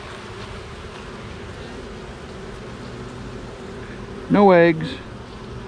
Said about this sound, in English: there are sure a lot of bees